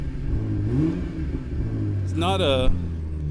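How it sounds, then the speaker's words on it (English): A 2016 BMW M6 Gran Coupe engine revs sharply once and rises in pitch before dropping back, heard close beside someone speaking over the idle. "let's give her a couple revs here."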